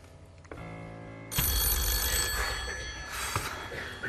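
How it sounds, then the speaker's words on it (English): A telephone rings on the Deal or No Deal game show in 2006, a loud, harsh electronic bell trilling in sustained bursts over studio room noise. "You don't like the phone ringing"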